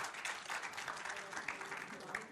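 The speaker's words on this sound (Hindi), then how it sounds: "ताली बजा दी।" A studio audience claps on a Hindi television debate show: a quiet, sustained patter of many hands with faint voices mixed underneath.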